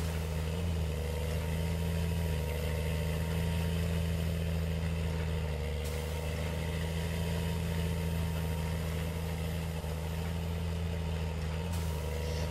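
A tractor engine in Farming Simulator 2019 runs steadily as the vehicle rolls downhill, giving a continuous loud mid-pitched drone with a low hum and no breaks in it.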